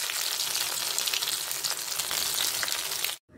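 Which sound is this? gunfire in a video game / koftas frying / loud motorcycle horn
koftas frying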